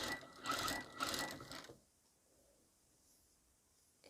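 A sewing machine stitching over pleated fabric for trousers, running in short bursts of rapid rhythmic clatter for about a second and a half and then stopping, leaving near silence.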